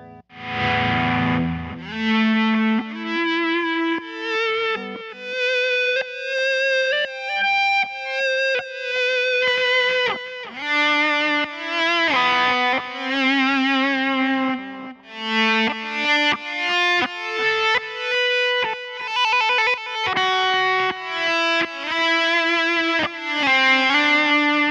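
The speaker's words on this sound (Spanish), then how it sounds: "Delay con hall, delay con room, eco, hall, eco," Guitar played through a Zoom 505II multi-effects pedal with delay, echo, hall and room settings, as loud, distorted sustained notes and chords ringing out with repeating echoes and reverb tails for the whole stretch, with no talking.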